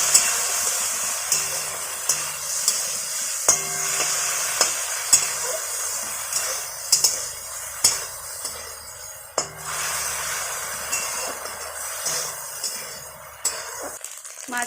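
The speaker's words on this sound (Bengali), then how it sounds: "ভালো করে আমরা মাছগুলোকে ভেজে নিচ্ছি" Fish frying in a pan gives a steady, loud sizzle with a bright hiss. Stirring and light clinks of utensils against the pan come at irregular intervals throughout, with no voices.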